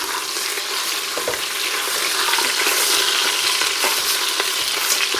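Meat for a Mosul-style lamb tashreeb frying in a pan while being stirred, a steady loud sizzle with scraping and clinking accents from the stirring throughout, no voices.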